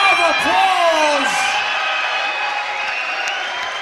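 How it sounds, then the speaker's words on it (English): A fight-night crowd cheers the two fighters after their bout, with whoops and yells rising in bright swooping calls over a broad roar. The din slowly fades across a few seconds. "give these two warriors a big round of applause"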